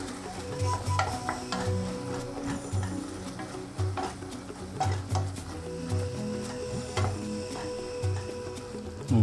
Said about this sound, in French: Pour éviter que ça colle en dessous, il faut tourner, remuer de temps en temps.